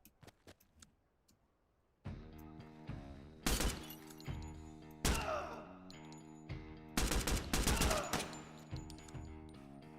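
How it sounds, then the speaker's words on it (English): Pistol gunfire in the video game Blackout: several loud, sharp shots arrive in clusters over a steady droning background, close and punchy, with a quiet stretch before them. "It's only a pistol. We can take that."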